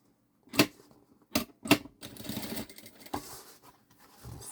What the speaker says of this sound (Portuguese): Começo a costurar.